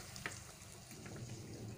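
Puris frying in hot oil in a pan, a soft, steady sizzle and bubbling with a faint clink near the start, quiet and close.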